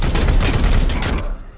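Support fire in the video game Warhammer 40,000: Chaos Gate Daemonhunters, a loud, rapid fusillade of gunshots bursting densely for over a second before cutting off.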